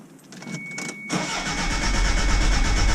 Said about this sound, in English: I'm going to crank it over.